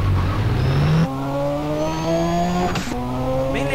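A car in GTA San Andreas accelerates with a rising engine whine that climbs through gear changes, each shift dropping the pitch before it climbs again, loud and close.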